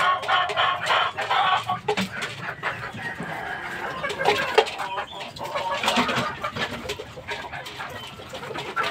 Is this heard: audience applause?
no